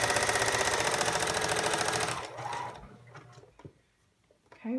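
Sewing machine running steadily as it stitches a fabric seam with raw edges tucked in, a dense rapid needle chatter for about two seconds, then stopping into quiet handling noises.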